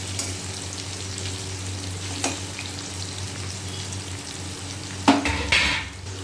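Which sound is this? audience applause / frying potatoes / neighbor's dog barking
frying potatoes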